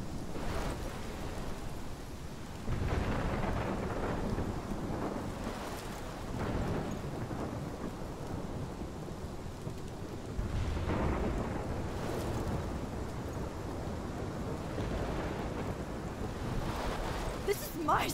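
Thunderstorm in the video game Life Is Strange: a steady roar of rain and wind fills the whole stretch, with several deep rolling thunder swells rising and fading, loud and continuous with no talk over it.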